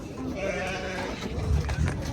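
Lambs and goats bleat among the livestock at a busy animal market, several calls rising through steady crowd noise and nearby talk.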